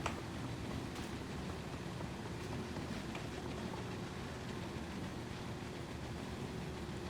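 A train in the video game Little Nightmares runs with a continuous low rumble that stays steady and droning, with nothing else standing out.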